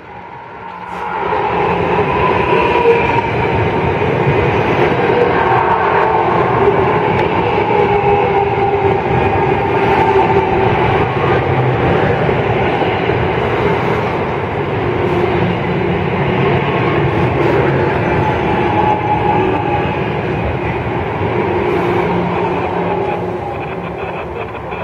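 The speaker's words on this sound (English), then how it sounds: "New Jersey Transit Arrow 3 number 1485 is running on train 3511, local to South Amboy, and will be stopping here at Woodbridge" A New Jersey Transit Arrow 3 electric multiple unit local train rolls through Woodbridge station, a loud, sustained rumble and whine that builds quickly and holds steady for over twenty seconds before easing slightly.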